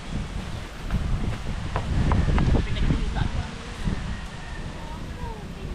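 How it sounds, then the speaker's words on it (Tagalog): Wind gusts outdoors at a seaside meal of crab dishes, making a steady broadband rush with mic buffeting that swells in the middle and then eases. "Hangin!"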